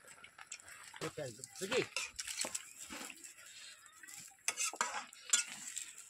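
Marinated goat meat is stirred in a pan in a campervan kitchen, with scraping utensil clatter and soft sizzling. Voices talk nearby throughout.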